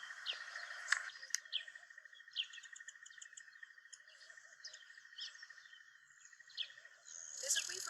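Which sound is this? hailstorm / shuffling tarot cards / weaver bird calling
weaver bird calling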